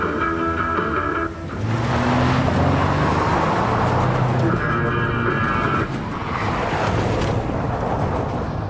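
A repaired pickup truck drives in the video game Life is Strange: Before the Storm, with a loud, steady engine rumble and road noise under brief rolling, thunder-like swells and no speech.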